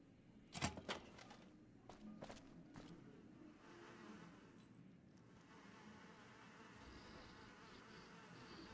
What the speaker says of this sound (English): What is this fly buzzing sound?